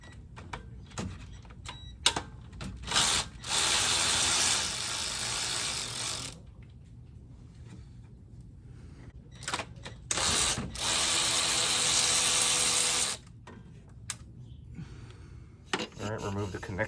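A ratchet turns a 10mm socket to remove the alternator cable and a wire loom bracket on a 2011 Toyota Highlander with 165,000 miles, heard as close, fast clicking in two long runs with short clicks and handling noises around them.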